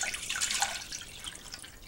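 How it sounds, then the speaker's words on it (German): A litre of water is poured into a pot of broth made with half a vegetable stock cube, a steady close splashing trickle running unbroken for the whole two seconds with no talking. "Und dazu gebe ich jetzt noch einen Liter Wasser zu."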